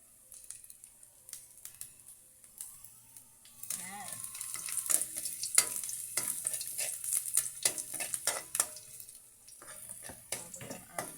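Garlic and onion sizzle and get stirred in oil in a pan as a chicken curry base, with scraping stir strokes and crackling frying heard close, and brief water-like sounds in between.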